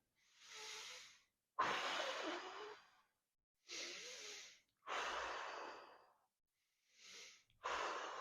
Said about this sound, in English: Then I'm going to lift my upper body up and then I'm going to deep breathe.